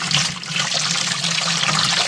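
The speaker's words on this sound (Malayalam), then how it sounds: "ഇനി നമുക്കിതിൽ വെള്ളം ഒഴിക്കാം" Water pours steadily into a container of mixed paddy rice seed for soaking, a continuous rushing splash that stays fairly loud and close with no pauses.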